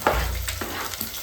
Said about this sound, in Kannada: ಸಾಸಿವೆ ಜೀರಿಗೆ ಹಾಕಿ ಈರುಳ್ಳಿ ಒಣಮೆಣಸಿನ್ಕಾಯಿ ಬಿಡಿಸಿರೋ ಬೆಳ್ಳುಳ್ಳಿ ಕರಿಬೇವಿನ ಸೊಪ್ಪು ಹಾಕಿ ಒಗ್ಗರಣೆ ಮಾಡ್ತಾ ಇದ್ದೀನಿ